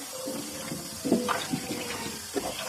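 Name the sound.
rinsing tomatoes in water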